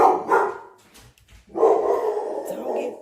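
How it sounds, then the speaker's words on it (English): A dog barks a few times close by, with a person talking over and around the barks. "Doggone dog. Don't mind him."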